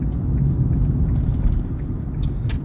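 A car merges onto the Gyeongin Expressway at Bucheon, heard from inside as a steady, loud low road and engine rumble with faint ticking above it, with no talking.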